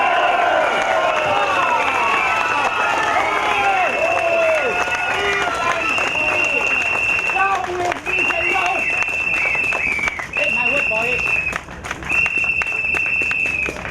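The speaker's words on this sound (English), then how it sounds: "Let's put our hands together and cheer Roy." A crowd at a MediShield Life protest rally cheers and applauds loudly, with sharp whistles and shouted voices over steady broadband clapping throughout.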